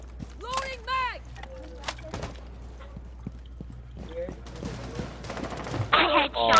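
Rapid gunfire from the video game Rainbow Six Siege crackles in short bursts and single sharp shots. It is mixed with game effects and occasional voices over a quiet background, and ends in a louder cluster of noise.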